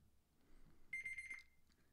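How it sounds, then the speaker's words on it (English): A tea timer gives a single short, high electronic beep, faint and isolated against a quiet background. "Sorry about that beeping."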